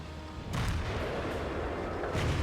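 Tank cannon fire during a World of Tanks battle involving an E75 and an IS-4: two heavy booming shots, one near the start and another near the end, over continuous loud rumbling battle noise.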